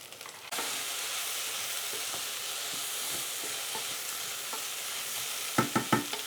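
Corned beef hash filling with leeks sizzles and fries steadily in a pan, a continuous close hiss with a few soft stirring scrapes and louder clatters near the end.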